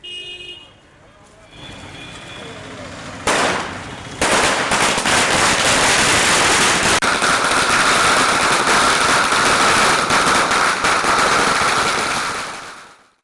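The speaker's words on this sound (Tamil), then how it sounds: "அதிமுகவினர் பட்டாசுகளை வெடித்து தங்கள் மகிழ்ச்சியை வெளிப்படுத்தினர்" Firecrackers burst in a dense, continuous crackling barrage as AIADMK supporters celebrate in Sethunganallur near Srivaikuntam. The barrage starts after a few quieter seconds and stays loud and close until it fades at the end.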